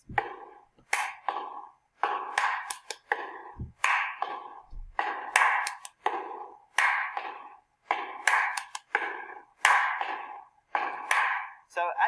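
A simple drum beat with a small fill repeats as a steady pattern of sharp taps and hits, with a few deeper thumps of the bass drum, played close.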